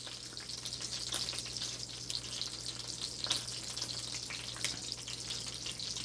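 Butter sizzles steadily in a pan while cooking Jamaican-style steamed fish with crackers, with a constant bright crackle, occasional sharper pops and a low electrical hum underneath.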